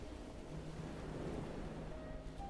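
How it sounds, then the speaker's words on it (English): Ocean waves wash against a beach in a soft, distant, continuous surge with a gentle airy hiss and no distinct crashes or voices. "Hear the sound of the ocean waves in the distance, gently rising and falling and crashing against the ocean shore."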